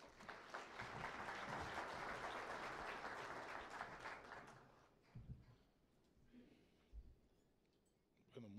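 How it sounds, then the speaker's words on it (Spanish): An audience at a formal justice-reform presentation applauds the Comptroller General, a steady wash of many hands heard from a distance and fairly quiet, lasting about five seconds before dying down into scattered room sounds. "Un fuerte aplauso para él."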